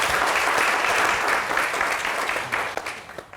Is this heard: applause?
yes